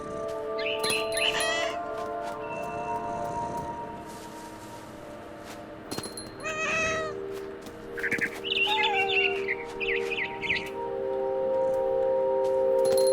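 Frightened bird calling in the video game What Remains of Edith Finch, a series of sharp chirps and caws scattered over a steady game ambience hum, with faint talk in the background.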